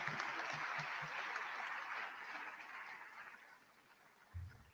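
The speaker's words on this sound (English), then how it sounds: "let's clap hands for that" Audience applause at a Medical and Dental Council of Ghana induction ceremony, a broad, quiet wash of clapping that fades gradually, heard from a distance with a soft thump near the end.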